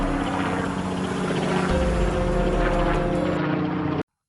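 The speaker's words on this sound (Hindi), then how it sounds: "इस बात का पता रोहन को चलता है और वो अपने हेलीकॉप्टर रोबोट को लेकर गांव में आता है" A cartoon helicopter robot flying, a steady whirring rotor and engine drone with a deeper low rumble joining midway, loud and close, then cutting off abruptly at the end.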